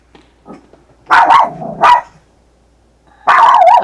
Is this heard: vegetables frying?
no